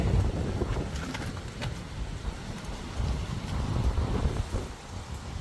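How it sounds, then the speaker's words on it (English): Gusty outdoor wind buffets the microphone during a tie rod replacement on a BMW X5 E53, giving a continuous low rumbling roar that swells and eases for the whole stretch. "Oh, it's windy."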